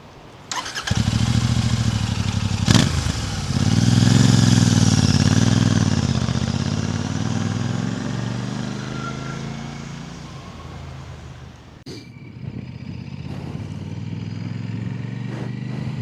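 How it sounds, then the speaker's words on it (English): A 2025 Royal Enfield Super Meteor 650 twin-cylinder cruiser starts with a short crank, then settles into a loud, deep, throbbing idle with a brief rev. The engine fades slightly before holding a steady idle toward the end. "It's a brand new engine on a brand new bike, but it sounds old. It sounds so characterful"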